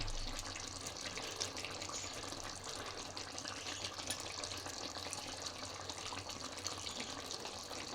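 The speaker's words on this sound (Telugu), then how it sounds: "కూరకు కూడా వాటర్ వేసుకున్నాం" Water is poured into a chicken tomato curry, giving a faint, steady splashing stream that runs continuously throughout.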